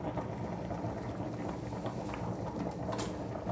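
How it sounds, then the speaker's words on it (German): Close, continuous bubbling and gurgling of Bolognese sauce boiling over vigorously in a SilverCrest cooker at 130 degrees, a dense wet churning with no pauses. "Also das kocht da über"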